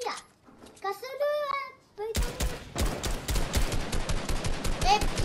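Heavy sniper rifle fire in a three-versus-three online shooter game, a burst of loud rapid gunshots that rings out after a voice and lasts several seconds, with game sounds mixed in.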